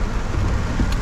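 Heavy rain pounds a car during a night storm in Macau, a steady dense roar of water on the roof and glass that continues without pause and without voices.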